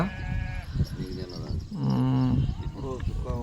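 Sheep and lambs bleat in loud, wavering cries close by while being given vaccine injections, with people talking over and between the calls.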